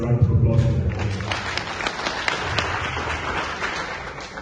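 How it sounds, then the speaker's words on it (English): Audience applause at a morning broadcast honoring a newly completed law doctorate, a dense, steady wash of clapping lasting several seconds with speech mixed in at the start. "I think he deserves a round of applause for that."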